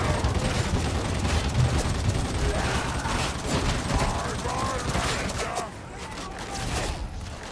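Sustained rapid gunfire from an automatic weapon in a video game, dense, loud and continuous through most of the stretch with mechanical clatter, easing slightly near the end.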